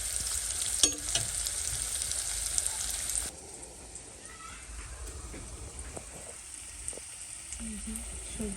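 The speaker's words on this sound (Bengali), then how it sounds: "এখানে সবজি দিয়ে দিচ্ছি আমরা এটাকে একটু তেলে ভাজা নিয়ে যাবো" Mixed vegetables, potato, eggplant, tomato and cabbage, fry in oil in a pan with a steady, fairly quiet sizzle and occasional stirring clatter, the hiss dropping a little partway through.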